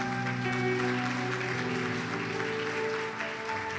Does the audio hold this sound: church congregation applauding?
yes